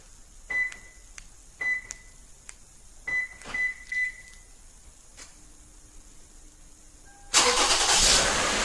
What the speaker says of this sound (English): I'm going to trigger remote start.